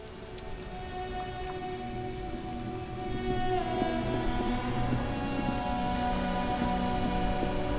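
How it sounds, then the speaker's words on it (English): Rain falls steadily in the video game Disco Elysium, a dense patter of drops over a soft wash, under sustained tonal music that thickens partway through; no one speaks. "It's raining again."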